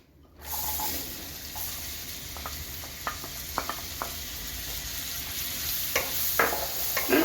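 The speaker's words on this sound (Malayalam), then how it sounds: "ഇനി മിൽട്ടായ ബട്ടറിലേക്ക് ചോപ്പേടെ സവാള ഇടാം" Chopped red onion goes into melted butter in a pan for pasta, a sizzle rising after a brief silent start and continuing steadily, dotted with scattered clicks of a spoon stirring against the pan.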